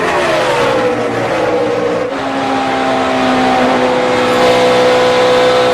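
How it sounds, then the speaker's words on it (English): NASCAR stock cars roar down the backstretch at the 2011 Dollar General 300, loud engines revving with pitch shifting as the cars pass, a continuous close-up race-car drone with no talk. "See Stenhouse sliding that car off the contact here down the backstretch"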